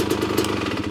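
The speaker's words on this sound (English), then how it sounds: "See it idling just fine right now." Brief, close burst of a well-tuned motorcycle engine idling smoothly, a steady throbbing putter with even pulses.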